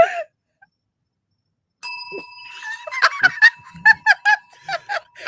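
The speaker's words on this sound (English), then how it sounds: "you rang the bell with your hair" A small bell is struck by someone's hair, giving one bright, clear ring that hangs and decays for several seconds while close snickers and laughter burst out over it.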